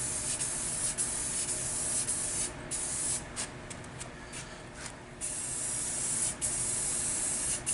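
Steady spray paint hissing as a coat goes onto an arcade cabinet, continuous and close with a few brief pauses in the spray, no talking.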